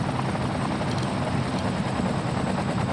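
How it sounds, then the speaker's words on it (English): Helicopters in the city-building game Cities: Skylines, a steady rhythmic rotor thump and whir, loud and continuous with no talk. "Oh my god, I really had to deploy a lot of helicopters though."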